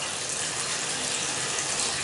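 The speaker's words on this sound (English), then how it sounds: "pull this up, and you can hear the water there" Water draining from the overflow of a pressurized solar hot water tank into a gray water system, a steady broadband rushing gush that runs continuously and fairly close with no voices.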